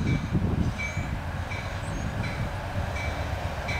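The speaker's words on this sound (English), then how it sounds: "This will be Amtrak P089, rather. The Palmetto, southbound." A southbound Amtrak Palmetto passenger train, led by a P42DC diesel locomotive, rolls past at Pembroke. It makes a steady, loud, close rumble with repeated wheel clicks and faint squeals along the rails.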